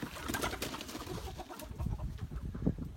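Chickens in a backyard henhouse converted from a small shed, with soft clucking and cooing among continuous rustling and shuffling, no talk.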